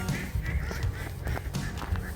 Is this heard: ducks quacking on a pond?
yes